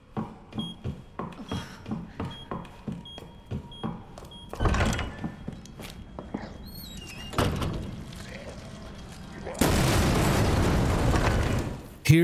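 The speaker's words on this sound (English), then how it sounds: "use the detonator upstairs to destroy the barricade" Detonator blast destroying a barricade in the Resident Evil 2 Remake video game, a sudden loud explosion followed by a long, roaring, noisy rumble of collapsing debris after a stretch of softer game sounds and thuds.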